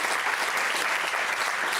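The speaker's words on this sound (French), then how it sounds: "qu'on peut applaudir très fort" A comedy show audience applauds loudly and steadily, a dense, even wash of clapping that fills the whole moment with no pauses.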